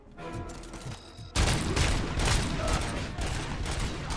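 A sudden burst of rapid, loud gunfire erupts in a RoboCop: Rogue City firefight, sustained dense shots and impacts following a quieter mechanical lead-in.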